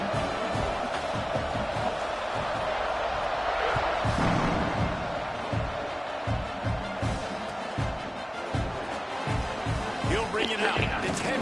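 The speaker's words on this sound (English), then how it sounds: "this crowd is feeling themselves after that last drive" Stadium crowd in a college football video game, LSU versus Oklahoma, roars and cheers as a steady dense wash throughout, with sharper bursts and thuds rising from the noise and commentary voices talking over it.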